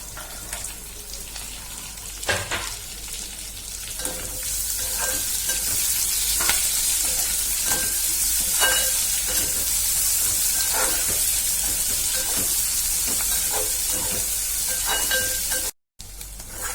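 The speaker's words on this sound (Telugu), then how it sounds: "ఇదిగోండి చూడండి ఉల్లిపాయలు కూడా బాగా వేగిపోయినాయి" Onions and green chillies fry in a pan with a loud continuous sizzle and hiss, broken by occasional clinks and scrapes of a stirring spoon.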